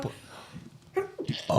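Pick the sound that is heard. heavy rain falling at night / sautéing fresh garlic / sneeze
sneeze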